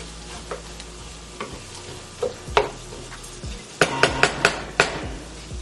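Carrots cooking in a pot over medium heat for a cream of broccoli soup: low sizzle beneath a run of sharp utensil knocks and clinks against the pot, sparse at first, then clustered near the end.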